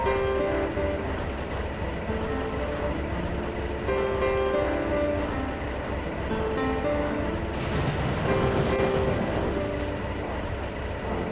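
A steam locomotive whistle sounds in the Trainz 2010 railway simulator, with sustained tonal blasts carried over a steady rumble of rolling train noise, fairly loud and close throughout.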